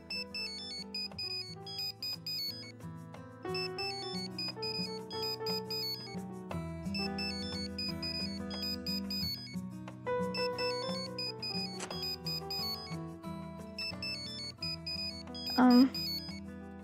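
A mobile phone ringtone plays a repeating melodic tune over and over at moderate loudness in a home, ringing on for many seconds with a brief thump near the end.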